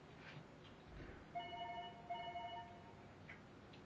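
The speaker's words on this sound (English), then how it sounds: "We have an alarm going off in the back of my phone." A phone alarm goes off as a repeating electronic beeping pattern in two bursts, fairly faint in a room with quiet background noise.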